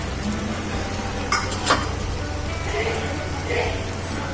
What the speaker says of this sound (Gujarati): ડુંગળી લાઈટ બ્રાઉન થાય ત્યાં સુધી સાતળી લેવાની છે